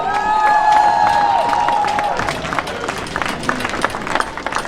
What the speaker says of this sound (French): J'aimerais un immense applaudissement pour ces 3 personnes et pour l'organisation du comité.